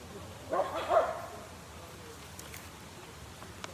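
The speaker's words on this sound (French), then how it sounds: "il y a des chiens là qui sont en train de s'amuser" Dogs playing outdoors give a couple of faint, distant barks early on, followed by quiet background noise and a few small clicks.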